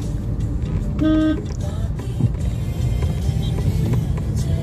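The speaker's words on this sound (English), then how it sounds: "traffic jam here in Jirakpur." Road traffic jam in Zirakpur, India: a dense rumble of car and bus engines with a short car horn toot and scattered clatter, loud and close, continuous throughout.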